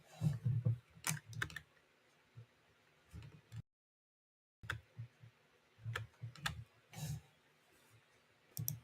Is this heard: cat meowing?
no